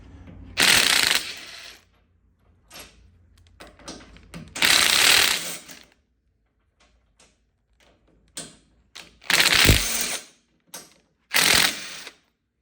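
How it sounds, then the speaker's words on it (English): A ratchet backing bolts out of a mirror bracket on a Polaris General A-pillar: several loud bursts of fast clicking come close up, separated by quieter clinks and pauses. "So there we are, got the bolts out"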